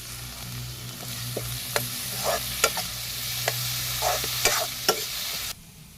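Dal and onion frying in a pan while being stirred, a continuous sizzle broken by sharp scraping strokes of the spoon at uneven intervals, close and fairly loud, dropping off abruptly near the end.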